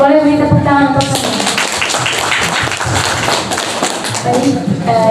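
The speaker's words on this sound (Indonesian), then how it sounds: "Boleh beri tepuk tangan untuk Sonia." Audience applause at a school book launch and novel review event, a dense burst of clapping that follows a spoken introduction and continues loudly, with a voice speaking near the end.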